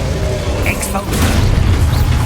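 Exposo blasting spell detonating in the Hogwarts Legacy video game, a loud heavy boom with a deep rumbling low end and crackling debris, mixed with a voice and other spell effects.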